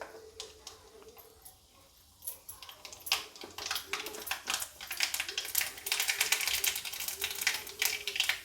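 Mustard seeds and cumin spluttering in hot oil for bitter gourd bhaji, a dense run of rapid crackling pops building from sparse to busy, close and fairly loud, with no talk.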